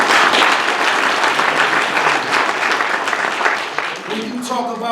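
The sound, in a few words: audience applause at mayor's campaign announcement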